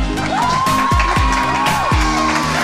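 A game-show crowd cheers and whoops for the green team, shouts rising over a sustained tone and a few low booming hits, loud and close throughout the short burst.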